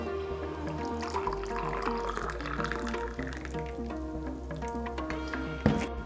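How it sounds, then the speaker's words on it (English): Hot water pours steadily into a cup for a hot toddy with honey, butterfly pea tea and lemon juice, a close, continuous liquid trickle with a faint rising fill and no voices. "Alright, so we're gonna start adding hot water into the cup."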